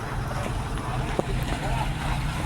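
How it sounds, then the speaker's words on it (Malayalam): A fishing boat's engine passes nearby at sea as a steady low drone, with wind noise over it and one faint knock midway. "ഞങ്ങളുടെ സമീപത്ത് കൂടി ഒരു ബോട്ട് പോകുന്നത് കണ്ടോ"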